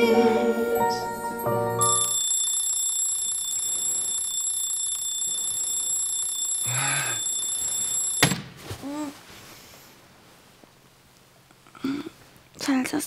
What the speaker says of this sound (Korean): 알람은 왜 이렇게 일찍 맞춰놨냐?